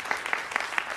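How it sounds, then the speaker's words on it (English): Brief, fairly quiet applause at a Maryland public defender launch event, with a few distinct claps standing out in a steady rhythm from a small audience. "A round of applause."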